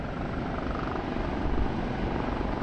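An OH-58D Kiowa helicopter flying in the combat flight game DCS, a steady close rotor and engine drone with a rapid, even chop that holds constant throughout.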